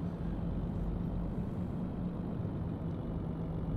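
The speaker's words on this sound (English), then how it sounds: "I was gonna say that motor sounds like it's revving really high" A truck engine in Euro Truck Simulator 2 revs high with a steady, heavy low drone, loud and continuous throughout, with no talk over it.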